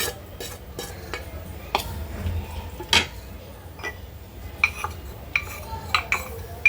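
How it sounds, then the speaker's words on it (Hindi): Spoon scraping and clinking against a metal pot as spices for chicken matka biryani are stirred, with scattered light taps and a faint sizzle underneath, no talking. "फिर देखो मसाले को जरा अच्छे से मिलाएंगे"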